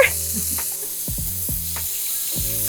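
Burger patties frying on a bed of onions give off a steady sizzle, with a few soft scraping movements in the pan partway through. The sound is close and continuous, and nobody speaks over it.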